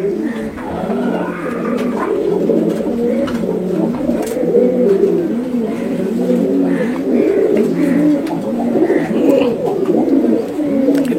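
Male high flyer pigeons coo steadily and close by, several birds overlapping in soft rolling calls throughout, with faint chirps above and a quiet murmur behind.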